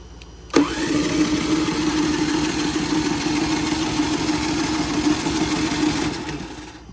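A Westinghouse iGEN4000DFc generator running on propane starts abruptly and holds a steady, close mechanical drone with a buzzing hum, then tapers off at the end.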